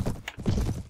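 Horse hooves of mounted horse archers in the video game Mount & Blade: Warband, a brief muffled patter of clip-clop steps under a dull low rumble, mid-distance and fairly soft.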